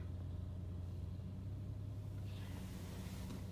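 Dump truck pulling away during snow hauling at Big Bear Lake, a low, steady diesel rumble heard from a distance, constant and unbroken, with no voices.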